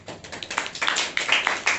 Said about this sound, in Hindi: एक जोरदार ताली बजाइए परमेश्वर के लिए।